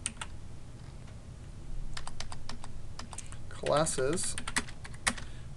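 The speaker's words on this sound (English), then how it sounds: "And this one I'm going to type" Rapid keystrokes on a computer keyboard while entering data into an Excel spreadsheet, a run of clicks with a brief spoken word partway through.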